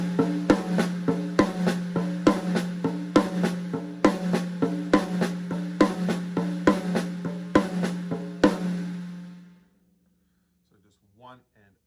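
A drum kit plays a linear triplet phrase with accents landing on the high tom, a quick even run of sharp strikes for about eight seconds before ringing out to silence, with a brief faint sound after.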